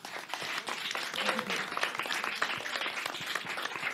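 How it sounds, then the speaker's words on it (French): Sustained audience applause at a French live science quiz show, dense and steady clapping filling the room for the full few seconds without talk. "je pense qu'on peut vous applaudir très,"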